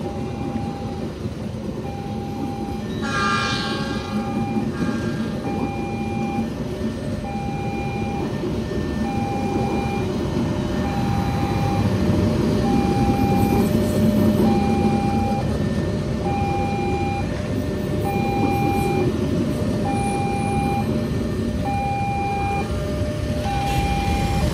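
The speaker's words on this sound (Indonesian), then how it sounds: "Kereta api Kertajaya." The Kertajaya train passes the Kalijaya level crossing in Cikarang, a steady broad rumble of rolling carriages under the evenly repeating beeps of a crossing warning signal, continuous and fairly loud throughout.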